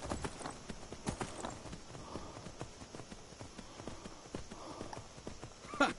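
A horse gallops in Skyrim, with rapid, even clip-clop hoofbeats continuing throughout over soft game ambience.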